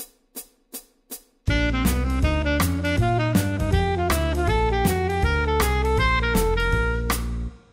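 Four short clicks count in, then a bright alto saxophone runs a steady, repeating jazz scale pattern of quick even notes, played alone and close.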